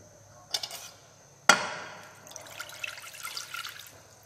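Water poured into a saucepan to make sugar syrup, with a couple of soft clinks, a sharp knock, then a brief splashing pour close by in a quiet kitchen.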